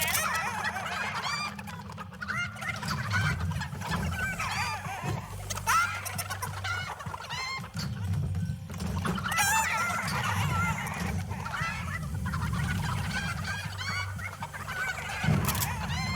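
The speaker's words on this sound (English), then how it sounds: "If you guys didn't know, shooting the chickens makes them stop." Chickens clucking continuously in the Fortnite video game, a dense flock of overlapping clucks and squawks at steady moderate loudness with no talking.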